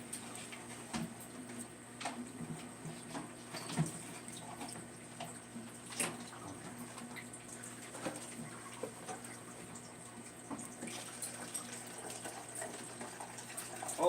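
Water runs steadily into a 20-gallon long aquarium as the tank is refilled, a quiet continuous wash with faint clicks and knocks scattered through it.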